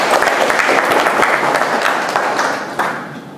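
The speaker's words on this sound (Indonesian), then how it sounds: "Tepuk tangan untuk kita semua." Audience applause at a campus motivational talk on organisation and leadership, a brisk burst of many hands clapping together that stays dense before easing slightly toward the end.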